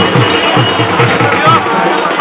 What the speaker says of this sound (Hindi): बहुत ज़्यादा भीड़ है भाई